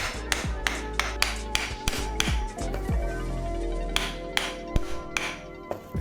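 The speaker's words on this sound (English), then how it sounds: "I'm gonna tap the heel to get the head seated." The heel of an axe is tapped on a hard surface to seat the head on its wooden handle, giving a series of sharp, distinct knocks in an uneven rhythm. The knocks are close and loud, with short gaps between strikes.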